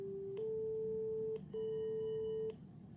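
A telephone rings in two long electronic tones with a short gap between them, steady and fairly clear over a faint room hum, with no talking.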